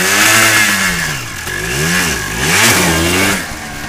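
A quad bike engine revs hard as the clutch is popped, its pitch rising, dipping and climbing again in loud, close, wavering surges with no voices over it.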